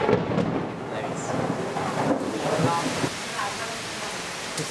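Thunder rumbles through a storm with rain falling steadily, a broad low roar that swells and fades over several seconds, with faint voices talking underneath.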